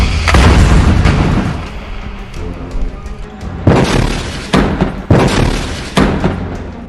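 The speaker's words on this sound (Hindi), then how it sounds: "इस टैंक में जोरदार ब्लास्ट होता है और इसके बाद फिर से इस टैंक के ऊपर पीछे से एक और रॉकेट फायर किया जाता है" A tank blowing up after a rocket strike in war footage, a loud, long roaring blast followed by several heavy booming thuds and bursts at irregular intervals.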